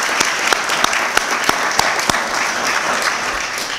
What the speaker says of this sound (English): So I'd like to just give them a round of applause.